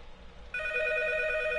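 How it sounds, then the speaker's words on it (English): A telephone rings in the horror video game P.T. (Silent Hills), a shrill continuous electronic ring that starts abruptly partway through and holds steady and loud to the end. "The phone's ringing. It's ringing!"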